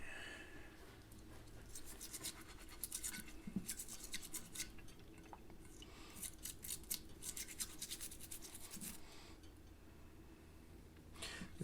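A brush scrubs small tool parts from a Snap-On No.71M being restored, washed in a pan of warm water, in steady rhythmic scratchy strokes up close and fairly quiet, with no talk.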